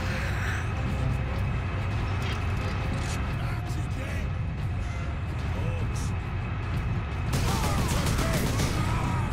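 Steady gunfire at orcs in Space Marine, a continuous rattle of shots over a dense roar of battle noise, with a voice speaking over it.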